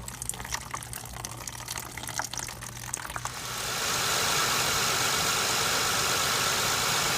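A cold Honda Accord engine idles steadily as water or liquid is slowly poured in. The engine hum runs low and continuous, and a rushing, splashy fill sound builds and grows louder.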